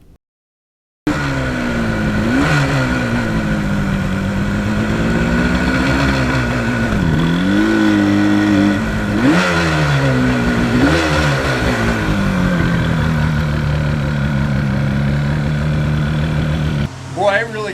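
1977 Yamaha RD400 two-stroke motorcycle being ridden, its buzzy engine loud and close, revving up and down through repeated gear changes with wind noise throughout.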